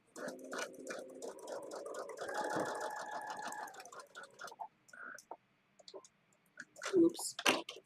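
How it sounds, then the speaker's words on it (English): A sewing machine stitching fabric pieces for a pillow runs in a steady rapid whir for a few seconds, then stops; a person talks quietly before and after. "I'm sewing on piece number 30 right now."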